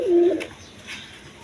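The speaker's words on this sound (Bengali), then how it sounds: "রয়্যাল টামলার কবুতর" A royal tumbler pigeon gives a soft, low coo near the start, followed by quieter background chirps and rustle, with no one talking.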